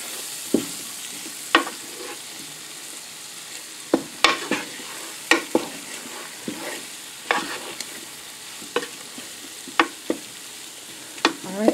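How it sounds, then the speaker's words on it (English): Flour stirred into vegetables for chicken tortilla soup in a Cosori multi-cooker used as a slow cooker: a steady series of close, distinct scraping strokes against the pot at roughly one-second intervals, with no talking. "we're just going to sprinkle this around and stir that in"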